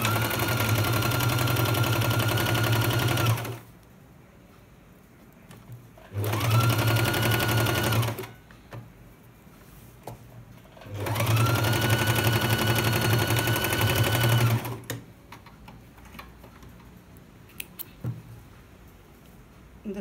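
A sewing machine stitching the seams of a patiala pant in three loud, close bursts of rapid whirring, separated by quiet pauses with faint handling of the fabric.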